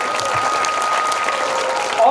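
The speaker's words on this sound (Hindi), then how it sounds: "जोरदार तालियां हुई।" Crowd applause at a Hindu religious discourse on the Shiv Mahapuran held at a Machhindranath temple in Jalgaon, a loud, even burst of clapping that fills the whole moment, with a voice breaking in at the very end.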